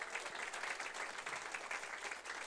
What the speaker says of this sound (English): If we can give a round of applause to the planning committee.